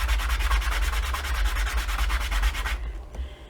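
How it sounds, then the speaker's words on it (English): A wooden finial post is rubbed flat on sandpaper in quick, rhythmic back-and-forth scrubbing strokes, close and steady for about three seconds before stopping abruptly. "and just sand that flat"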